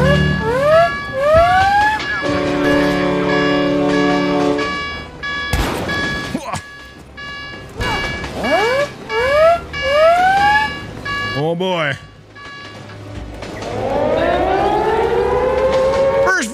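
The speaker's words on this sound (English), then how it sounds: "It's time for a siren run" Plane dive siren in Battlefield V, a repeated rising-and-falling wail heard several times over loud game action and explosions, with someone talking over it.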